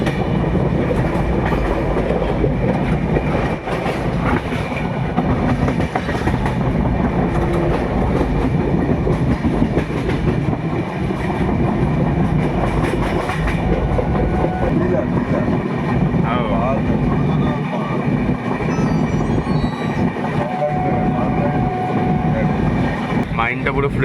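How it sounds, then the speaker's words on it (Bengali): A Howrah-to-Puri train runs at speed along the rails, a continuous loud rumble with rhythmic wheel clatter heard from inside the carriage. "এখন ট্রেন নিজের স্পিড নিয়েছে আবার।"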